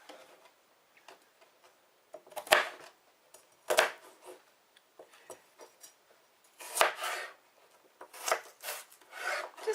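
A knife chops through the ends of celery stalks on a board: a handful of crisp, close cuts come in two loose pairs with quiet gaps between, and no one speaks.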